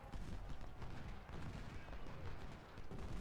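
Artillery booms and gunfire roll in a dense, continuous barrage of distant thuds and crackles during a battle in the video game Ultimate General.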